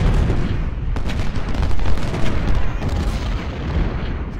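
Cannons firing in the American Civil War strategy game Ultimate General: Civil War, heard as a dense, continuous barrage of low booms and rumbling blasts with no gaps, loud throughout.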